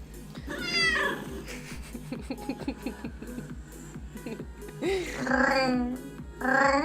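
A cat meows repeatedly indoors, with several drawn-out, rising and falling calls. The loudest come near the start and again toward the end, with shuffling and soft room noise between them.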